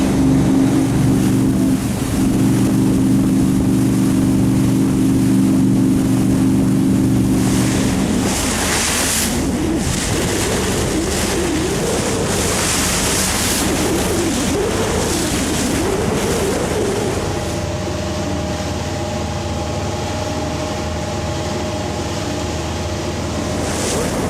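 A boat engine drones steadily while water rushes and splashes against the hull; the engine tone shifts partway through.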